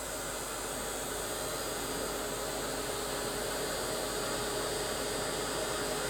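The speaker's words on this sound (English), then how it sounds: "I'm just going to blast it with the heat gun" A heat gun blows hot air onto a canvas in one steady, unbroken rushing whoosh with a faint hum, close and continuous, with no voices.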